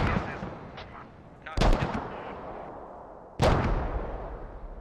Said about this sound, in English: And the mortar finally kills Bartok.